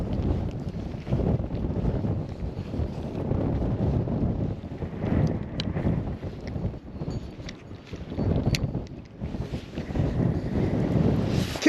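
Steady wind buffets a small fishing boat on Black Butte Lake, a continuous low roar and rumble that swells and eases, with faint water lapping and occasional small knocks, and no voices.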